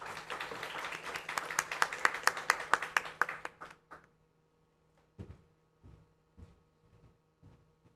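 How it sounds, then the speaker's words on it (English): Audience applause at a university GMBA graduation ceremony: dense clapping for about four seconds that thins out and stops, then scattered faint sounds in a quiet hall. "Please give him a big round of applause."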